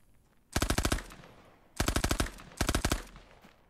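Thompson submachine gun in a video game firing three rapid bursts, each a quick clattering string of sharp shots, loud and close with brief pauses between bursts and no talk.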